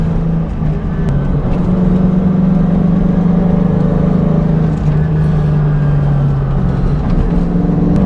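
A modded 2001 Ford Mustang Bullitt drives the twisty Pig Trail, its engine droning steadily up close, loud and continuous, with slight shifts in pitch as it holds gear through the corners.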